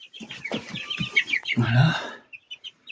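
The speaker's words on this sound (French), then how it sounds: "Sur les 5 poussins, il y a 2 poules et 3 coqs." Five young chickens, two hens and three roosters, cluck and squawk inside a garden shed, a run of busy calls with a louder burst midway and short clucks trailing off; someone speaks briefly near the end.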